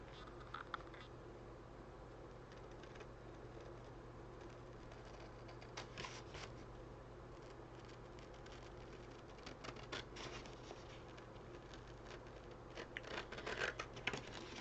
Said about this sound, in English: I'm going to cut all this out round here.